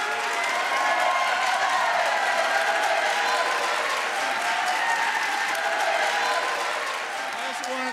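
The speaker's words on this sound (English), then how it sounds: "Let's give them a round of applause." A crowd claps continuously, a full round of applause that holds steady and fades slightly near the end.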